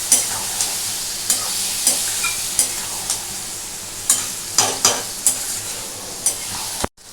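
Prawn curry with taro and potato is stir-fried in a pan, with a steady sizzle under a regular series of spatula strokes against the pan, close and clear, ending in a brief abrupt knock, no talking.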